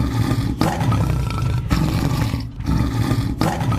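A Royal Bengal tiger roars loudly and close, in three long, rumbling bursts, each separated by a brief pause.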